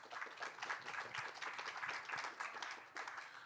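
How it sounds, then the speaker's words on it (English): Audience clapping during a question-and-answer session with a band, a steady, fairly quiet patter of many hands lasting throughout with no voices over it. "you can clap."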